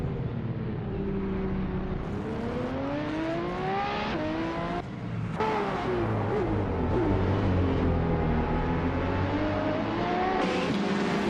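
Chevrolet Corvette C7R race car in a racing video game, its engine note rising and falling through gear changes and revs for the whole stretch, loud and continuous with a brief dip midway and no talking.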